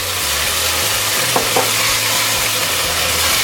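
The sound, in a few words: tomato cooking and sizzling in ghee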